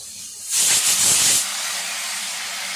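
Onions, green chili and tomato sautéing in a hot pan for a fish roe stir-fry: a sudden loud hissing sizzle bursts up for about a second, then settles into a softer steady fizz.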